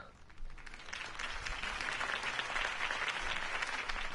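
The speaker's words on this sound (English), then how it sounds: "could have heard that applause" Crowd applause after a campaign speech in Batman: The Telltale Series, a dense and steady clapping of many hands that starts abruptly and carries on at moderate loudness.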